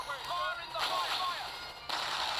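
Aircraft strafing run in the World War 2 video game Road to Valor: a few sharp, loud bursts of gunfire crack out in quick succession over a steady game background.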